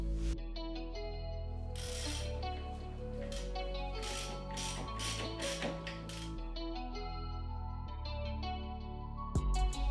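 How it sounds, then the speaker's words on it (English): A ratchet tightening the sway bar link nuts on a BMW 7 Series E38, a close, loud run of rapid clicking strokes in several separate bursts. "Torque down the nuts to 65 Newton meters."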